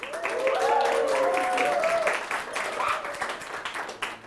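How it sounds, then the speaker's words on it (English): An indoor audience at an evening panel event in an office applauds, a dense wash of clapping that swells then thins out over a few seconds, with a voice speaking over it. "please give yourselves a round of applause for attending"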